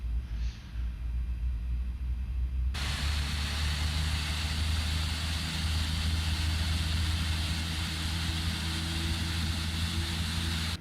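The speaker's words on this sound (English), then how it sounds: "We have a good engine start. Okay, engine number 1 is running, so firing up number 2." Simulated Boeing 787-9 jet engine starting in Prepar3D: after a quieter opening, a loud steady broadband roar jumps in suddenly and holds, with low tonal hum beneath as the engine spools up and runs.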